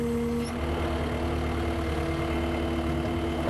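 A skid steer engine with a grapple bucket hitch runs at a steady idle, a constant low drone close by with no other sounds.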